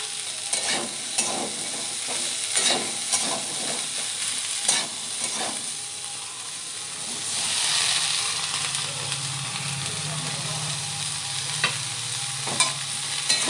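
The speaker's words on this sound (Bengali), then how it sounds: "ভেজে ভেজে এক এক করে সবজি কষিয়ে নেব" Vegetables frying and being stirred one by one in a pan, a steady hiss punctuated by repeated sharp clacks and scrapes of the spatula, with a brief swell of steam midway.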